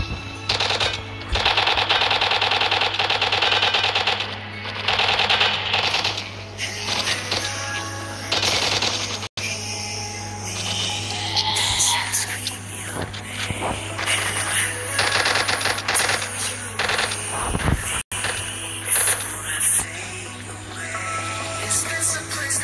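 Gunfire in the video game Zombie Uprising crackles in loud, rapid bursts, with dense clattering volleys broken by short pauses over a constant low hum of game background.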